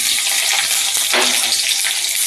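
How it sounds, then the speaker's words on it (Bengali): Garlic and onion hitting hot oil just after cumin has been toasted, giving a loud, steady close-up sizzle with a brief surge partway through as the pan is stirred. No one speaks. "তেলের ভিতরে এরপর যেটা দিব রসুন আর পেঁয়াজ"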